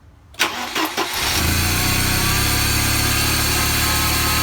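A Mercedes W201 190E with an M102 engine and E-Jetronic injection cranks briefly with a few quick churns, then fires up into a loud, steady idle close by.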